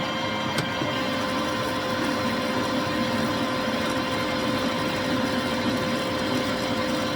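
A machine cuts a metal part down to size for a custom Harley chopper build, giving a steady, even mechanical hum with a faint whine and one brief click near the start.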